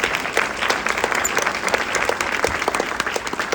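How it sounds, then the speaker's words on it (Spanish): A church congregation applauds steadily at a sermon, dense clapping filling the room with a constant, fairly loud texture from start to finish. "¿Cuántos dan un aplauso al Señor por eso?"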